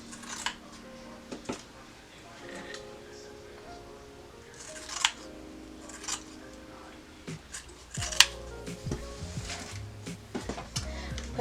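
Scissors snip through craft material in a few crisp cuts spaced between quieter handling clatter and rustling, close by, with measuring done between cuts.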